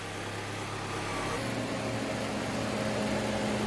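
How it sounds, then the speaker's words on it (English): A 2004 Honda CR-V engine at operating temperature idles steadily while its radiator cooling fans cycle, a broad continuous whir shifting to a steadier hum partway through, close and alone with no talk. "Once you hear your engine fan cycle like they just did, check your coolant level."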